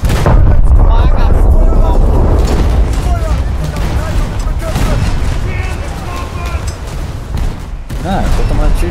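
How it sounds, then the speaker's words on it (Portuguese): Heavy naval gunfire pounds a German Kriegsmarine battleship, the Nassau, during a World War II naval video game battle, a dense continuous barrage of booms and impacts under a player's talking. "tô tomando tiro de tudo quanto é lado"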